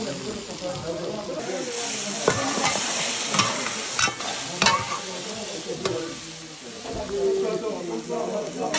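Tomato cooks and is stirred in a hot pan as the heat is lowered; a dense close sizzle runs throughout with scraping clicks from the utensil, while a voice talks intermittently over it.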